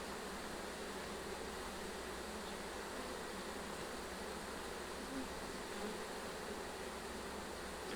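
Honey bees hum in a steady, even drone during a hive inspection, a continuous buzzing swarm that stays at a moderate, unchanging level with no speech.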